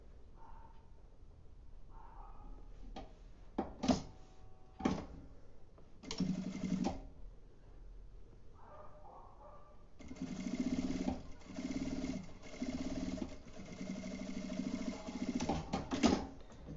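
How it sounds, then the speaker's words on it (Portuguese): Sewing machine stitching along the edge of a makeup pouch, running in short bursts of varying length separated by quiet pauses, close and fairly faint, with a longer continuous run toward the end. "aqui eu vou passar uma costurinha bem na beiradinha"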